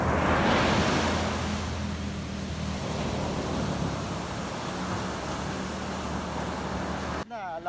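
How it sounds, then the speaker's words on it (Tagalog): Strong ocean waves roll at the sea in Baler, a broad roaring surf wash with wind buffeting the microphone, loudest at the start and then steady, with a low hum underneath. "Malakas ang alon."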